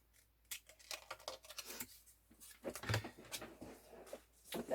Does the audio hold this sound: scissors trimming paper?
yes